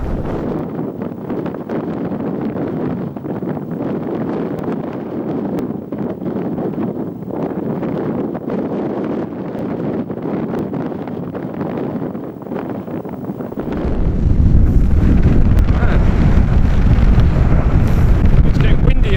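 Strong wind on Sgor Mor, a Scottish mountain, buffeting the microphone in rough, rumbling gusts that swell into a louder, steadier roar for the last few seconds.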